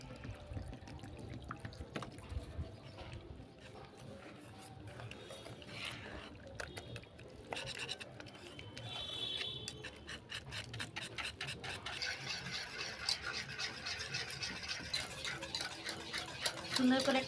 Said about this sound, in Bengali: একসাথে বেশি পরিমাণে জল দেব না, অল্প অল্প করে জল দেব আর